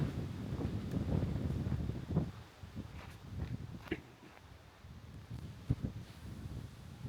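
Wind gusts continuously through a forest, a low buffeting rumble pressing against the microphone with uneven surges and a few faint knocks.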